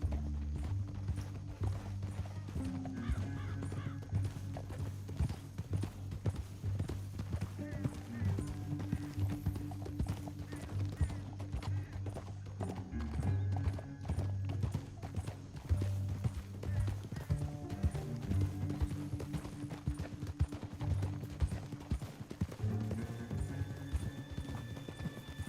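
Horses gallop and trot across open country in a western game, their hoofbeats a dense, continuous clatter with occasional whinnies over a steady musical score, without talk.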